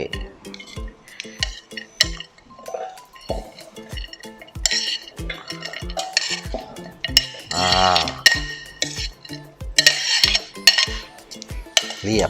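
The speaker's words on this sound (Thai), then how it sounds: "เอาเฟรนช์ฟรายที่เราเตรียมไว้เนี่ย ใส่ลงไปได้เลย" Prepared french fries are dropped into the basket of a 2.5-litre air fryer, model AN-AFY2518, with repeated close clatters and scraping knocks of food and metal, loud and irregular throughout.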